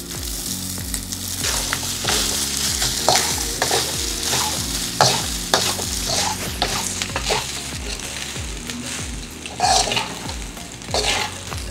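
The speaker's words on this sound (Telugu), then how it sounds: "ఇప్పుడు మనం పొడిగా వండి పెట్టుకున్న రైస్ని వేసుకొని కలుపుకోవాలి." Cooked rice being stirred into a sizzling pan with ghee for avakai pulihora, a Telugu mango-pickle tempered rice dish, with steady scraping stirs and frying crackle running throughout, no talking.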